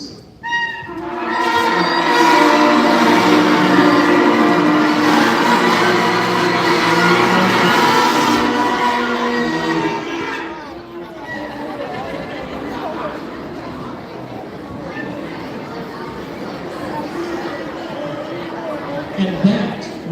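A beginner school band makes its very first sounds on new instruments: a loud, messy cluster of sustained, uncoordinated tones for about ten seconds, then fading into quieter scattered noodling and classroom noise.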